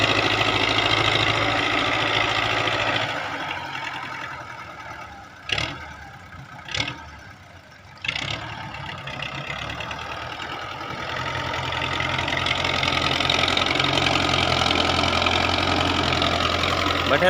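A tractor engine idles close by with a steady low rumble, briefly dipping and cutting out a few times midway before settling back into an even running drone.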